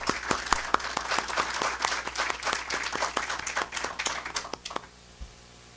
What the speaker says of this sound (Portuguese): Pediria para o ministro uma salva de palmas